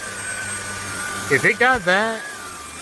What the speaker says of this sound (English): This is almost like shop vac level suction.